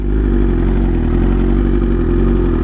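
A BMW S1000RR motorcycle engine warms up after sitting unused for one to two months, a loud, steady close idle with a dense mechanical clatter and whir, no revving swells and no talk.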